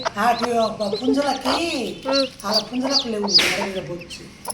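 A hen with newly hatched black chicks clucks in repeated low calls close by, with high chick peeps scattered through, while a person speaks over the birds.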